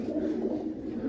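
Pigeons cooing steadily in a breeder's loft, a soft continuous murmur of low throaty calls from several birds close by, with no talk over it.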